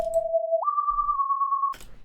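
A smooth synth sine-wave lead with unison holds one pitch, slides up to a higher note and sustains, clean and steady with brief soft noises around it.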